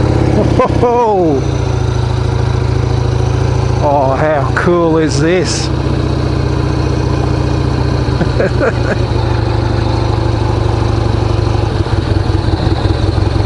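A custom Harley-Davidson XR883 motorcycle engine runs loud and close, a steady low rumble with a few quick throttle blips, while someone talks excitedly over it.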